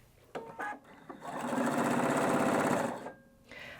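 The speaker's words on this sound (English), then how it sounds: "I can just simply tap the foot control and start sewing." A Husqvarna Viking Brilliance 75Q sewing machine sews. A few soft clicks come first, then a steady close motor whir with rapid needle ticking runs for about two seconds and stops.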